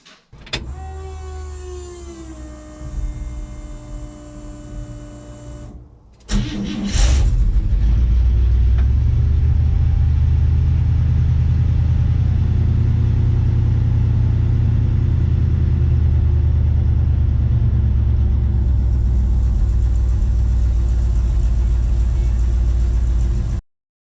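A truck engine fitted with FiTech fuel injection fires up after its clogged fuel filter has been cleaned. A whining crank is followed by a short pause, then the engine catches and settles into a loud, steady, low rumbling idle that runs until the end.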